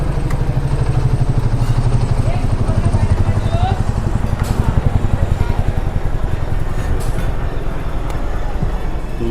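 A helicopter arrives at a busy fair in Chandigarh, its rotor thumping in a fast, steady loud pulse over the crowd, with people talking nearby.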